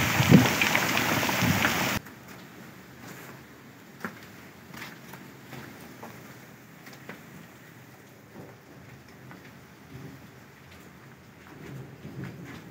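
Heavy rain pours down on a surface, a dense steady hiss with scattered drops, loud in the first two seconds then continuing more softly.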